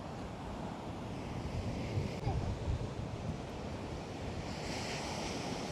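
Ocean waves break and wash continuously onto a Portuguese shore, a steady roaring surf with swells of louder crashing and some wind buffeting the microphone.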